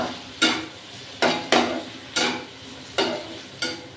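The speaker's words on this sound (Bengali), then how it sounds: "বেগুন আলু একটু ভালো করে আমি কষে নিলাম।" Eggplant and potato with mustard and spices being sautéed in a pan, heard as a series of regular spatula scrapes and knocks, about six strokes, each followed by a brief sizzling tail, with no talk.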